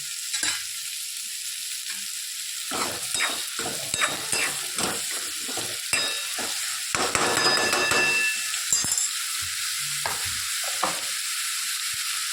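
Food simmering in an element kadai over low heat, a steady sizzle broken by repeated stirring scrapes and metallic clinks, with a brief louder burst of sizzling in the middle.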